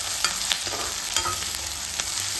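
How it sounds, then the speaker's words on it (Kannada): Onion and curry leaves fry in hot oil for a North Karnataka style moth bean curry, with a steady broad sizzle and several soft scraping stirs repeating about every half second to second, close and fairly loud with no talking. "ಆ ಎಣ್ಣೆ ಒಳಗನೆ ನೀವು ಕರಿಬೇವಿನ ಸೊಪ್ಪು ಹಾಕಿರಿ ಹಾಕಿಬಿಟ್ಟು ಚಂದಾಗ ಹಿಂಗೆ ಫ್ರೈ ಮಾಡ್ಕೊರಿ"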